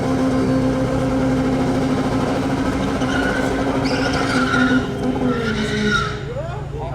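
A quarter-mile drag race between a Honda and a VR6, with continuous loud engine roar and tyre noise that shifts and fades near the end, as a voice talks over it.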